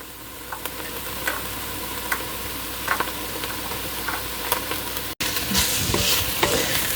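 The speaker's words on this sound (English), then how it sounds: "My bacon was uncured bacon, so I want to make sure that I get that nice and cooked." Uncured bacon fries in a pan for a clam chowder base, giving a steady close sizzle and crackle with occasional sharp pops and a brief stir or scrape near the end.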